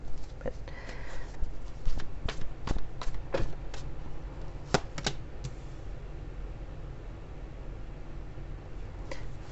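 Shuffling tarot cards give a flurry of light, rapid clicks and riffles at the start, fading into a soft steady background hiss.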